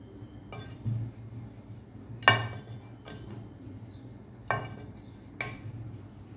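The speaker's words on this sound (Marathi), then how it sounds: "पुरी लाटून घेऊया" A rolling pin works puri dough on an oiled wooden board, producing a handful of sparse, close knocks and clicks spaced about a second apart over quiet room tone.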